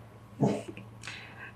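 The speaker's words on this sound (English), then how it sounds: "And there's my dog." A dog near standing stones gives a short bark or yelp, followed by a fainter second sound, heard alone with no talking.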